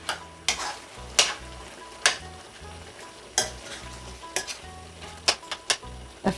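A spoon stirs pumpkin cooking with fried shrimp in a pan, giving a series of irregular sharp scrapes and clinks against the metal over a low steady sizzle.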